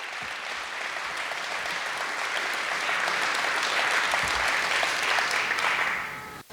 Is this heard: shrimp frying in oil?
no